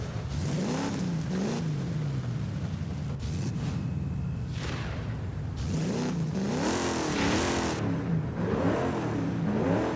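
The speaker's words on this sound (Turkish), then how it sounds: "Nasıl titriyor bak motor." A car engine in Forza Horizon 5 revs and roars up and down repeatedly, its pitch swinging and climbing through several bursts. It stays loud and close throughout, with a rough, trembling idle running between the revs.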